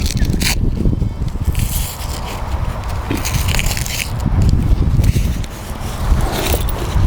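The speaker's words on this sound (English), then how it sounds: "it will Velcro against the post" An awning wall is pressed against a Rhinomax hybrid camper's post with Velcro, giving loud, close, crackling scrapes and tearing rasps in uneven bursts against outdoor background noise.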